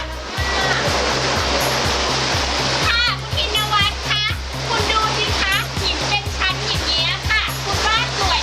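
A river rushes through a forested ravine between two hills, a steady loud roar of flowing water with a rhythmic low thumping underneath, and children's voices chattering over it throughout.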